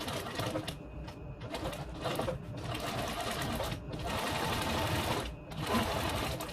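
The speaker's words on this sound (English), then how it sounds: "I'm sewing leather, so I'm not going to go too narrow" A sewing machine stitches leather for an upholstered seat, running in close, steady bursts of rapid mechanical clatter broken by a few short pauses.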